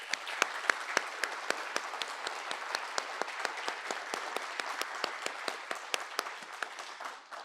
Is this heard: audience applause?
yes